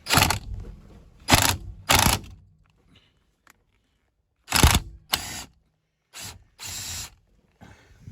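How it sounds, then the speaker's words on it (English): An impact gun removes a Loctite-secured Torx T50 bolt from a Vauxhall Insignia steering wheel: several loud, sharp rattling bursts up close, separated by short pauses, with no talk. "I'm going to use my impact gun to"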